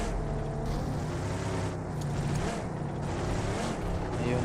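A vehicle engine in the battle royale game BGMI drones steadily throughout, a continuous low rumble with wind-like hiss, no speech heard.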